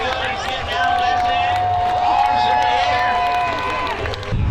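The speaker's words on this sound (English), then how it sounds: "How about a round of applause for Max right there, ladies and gentlemen?" A crowd at an offroad park event in Canada cheers and claps for a driver, a steady roar of voices under a loud announcer voice, with whoops rising and falling throughout.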